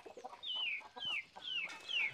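Free-range hens clucking nearby in a series of about four short, rising calls, each broken into quick pulses, with soft scratchy farmyard noise in between.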